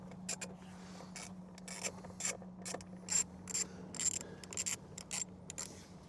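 Quick bursts of ratchet clicking as 10mm steering wheel bolts are backed out on a Jeep Gladiator, with short, close, fairly quiet runs separated by brief pauses.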